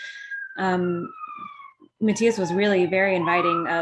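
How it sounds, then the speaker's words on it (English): Police sirens wail from outside, a sliding tone that rises and falls and is partly buried as a person keeps talking over it throughout. "sorry for the sirens"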